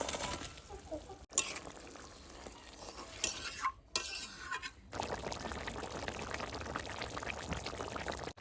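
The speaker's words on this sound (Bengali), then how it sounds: "এখন ভেজে রাখা মাছগুলো দিয়ে দেবো।" Fried katla fish pieces go into simmering gravy in a pan, with soft sizzling, a few clanks of utensils and stirring splashes, steady bubbling continuing underneath.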